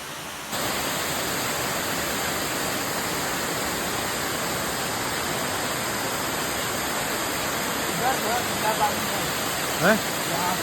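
Waterfall at Katangi near Jabalpur, a steady loud broadband rush of falling water that sets in abruptly and continues throughout, with a few faint voices near the end.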